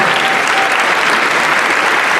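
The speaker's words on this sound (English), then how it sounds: "Let's give this young man a round of applause as well." Audience applause at the 2017 Aurora inauguration ceremony, honoring Quinn Rollins, first son of Aurora: dense, steady clapping from a large crowd, loud and continuous throughout.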